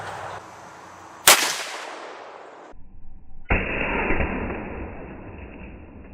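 A rifle shot from a .35 Whelen or .30-06 slams into a giant clay block, one sharp loud crack with a trailing roar, followed by a quieter rushing burst.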